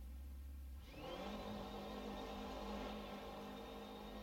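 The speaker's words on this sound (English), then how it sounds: "Bounce it off the rev limiter there." The V8 engine of an RSS GT-M Bayro 6, sitting in the pit lane in a racing video game, jumps from idle to a sustained high-pitched scream held bouncing against the rev limiter, close and loud.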